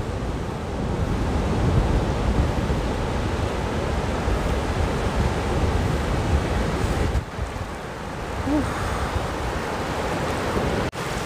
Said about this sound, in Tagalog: kasi malalaki nga yung alon dito